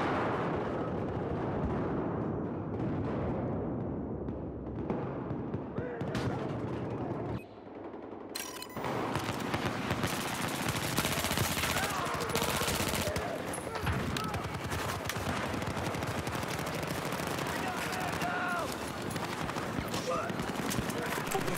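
Dense, sustained gunfire from a shooter video game, with a brief lull before the shooting resumes and stays heavy and continuous. A voice talks over it.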